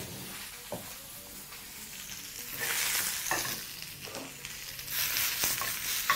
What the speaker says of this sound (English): Once it's nicely smoking hot, proceed to spread out your spinach.